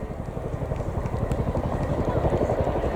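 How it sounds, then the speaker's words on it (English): Boeing CH-47 Chinook twin-rotor helicopter flying in a Royal Air Force display, a loud continuous rumbling rotor thrum with rapid pulsing beats, close and steady throughout. "Give your hands up together for the 2019 Royal Air Force Chinook display"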